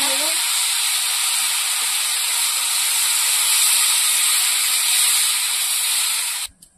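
Water poured into hot, well-fried masala for a village-style katla fish curry, producing a loud, steady steam-like hiss that holds evenly for several seconds before cutting off abruptly.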